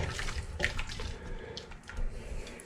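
A pot of two-meat chili comes up to a low boil. Gentle bubbling and soft gurgling pops rise from the pot at low volume.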